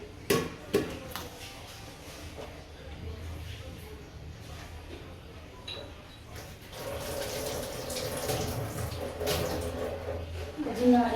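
Water runs from a household tap in a home kitchen as an uneven splashing flow that grows fuller toward the end, mixed with clatter and background household noise.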